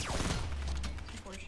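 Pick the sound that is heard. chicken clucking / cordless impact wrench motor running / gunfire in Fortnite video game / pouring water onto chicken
gunfire in Fortnite video game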